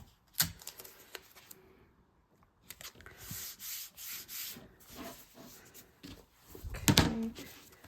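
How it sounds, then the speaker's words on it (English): Tape is pulled off a roll with a sharp rip, followed by a run of rubbing strokes pressing it down on fabric lining, then another loud tearing burst. "get some tape, tape it down."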